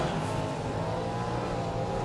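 Speedway race cars roar around a dirt track, a dense, steady engine drone filling the air with no gaps and no voices.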